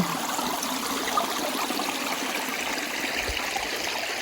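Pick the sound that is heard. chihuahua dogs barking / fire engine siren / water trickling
water trickling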